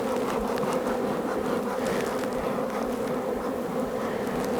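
Honeybees swarming around an opened hive during a spring hive inspection in Outaouais, a dense continuous droning buzz close by, steady and loud with many overlapping wingbeats, no speech.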